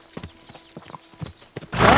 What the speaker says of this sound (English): Alright, horse, I'm trading you up for a better horse that I'm also gonna name Horse